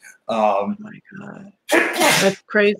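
A loud, close sneeze bursts out in the middle of a casual conversation, with people talking just before and right after it.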